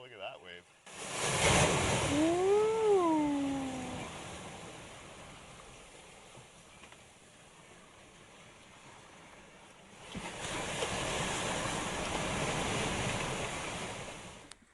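Ocean waves washing around a sailboat on a Pacific crossing from the Marshall Islands to Kosrae, broad rushing surges at the start and end with a quieter lull between, plus a brief rising whistle-like tone early on.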